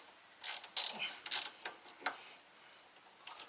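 A ratcheting ring spanner clicks while undoing a rusty coilover nut on an AE92 Toyota Corolla, with quiet, close bursts of rapid ratchet ticks in short irregular strokes against a near-silent background.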